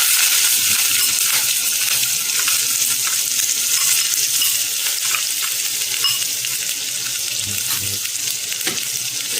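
Onion frying in hot oil with curry leaves, a loud hissing sizzle that stays dense and steady, with a few soft stirring knocks, up close and without speech.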